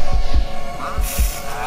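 Heartbeat sound effect pulsing in a steady double-thump rhythm, deep and loud, over a low hum, with a brief voice-like sound partway through.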